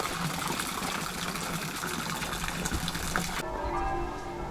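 Water trickles and splashes into a small garden pond with a fish statue, a steady nearby burble that continues without a break. Background noise drops away near the end, leaving the trickle clearer.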